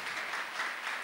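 A crowd applauds in a charismatic theology gathering, a dense, steady wash of many hands clapping together, moderately loud and without pause.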